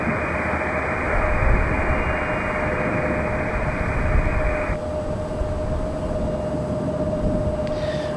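A Bombardier CRJ regional jet from DC rolls by at Raleigh-Durham airport, a steady broad roar with a high whine holding throughout, loud and close with no voices.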